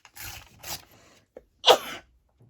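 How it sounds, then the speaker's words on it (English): A single close sneeze bursts out once, loud and sharp, after a short stretch of rustling and handling during a crafting session at a table. "I'm going to sneeze"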